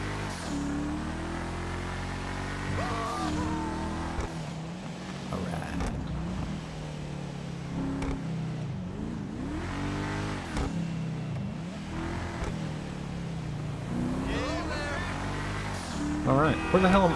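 In GTA Online, a car engine hums and revs continuously while driving, with gear shifts rising and falling throughout, heard under someone talking.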